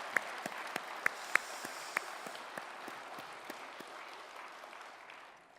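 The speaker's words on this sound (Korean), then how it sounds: "우리 하나님께 먼저 다시 한번 큰 박수로 영광 올리겠습니다" A church congregation applauds, a fairly soft, even patter of many hands with a few sharper near claps early on, fading away at the end.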